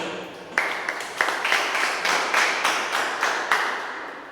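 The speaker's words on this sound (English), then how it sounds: "A big round of applause again." Applause from a classroom audience after a student group's micro-teaching presentation, a steady burst of many hands clapping close by that swells and carries on for several seconds.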